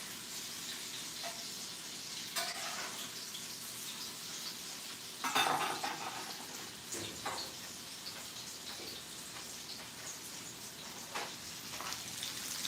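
Jackfruit salmon patties fry quietly in a pan, a soft steady sizzle with a few louder crackles and taps as they are turned.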